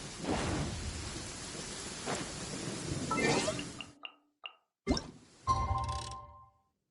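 Steady rain hisses through a video-game thunderstorm, with a broad rumble of thunder rolling in before the downpour cuts out into a few sharp clinks and short bursts of sound.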